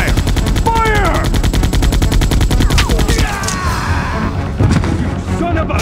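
Loud, sustained gunfire from the Resident Evil 2 game on PlayStation 1, rapid repeated shots hammering continuously with crashing impacts layered in, and a voice briefly heard over the din.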